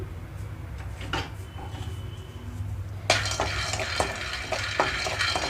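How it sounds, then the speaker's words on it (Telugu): Peanuts dry-roasting in a pan on the stove, quiet clinks and scrapes at first, then a denser rattling and scraping as they are stirred, close up with faint background hum. "ముందుగా పల్లీలు వేయించుకుంటున్నాను"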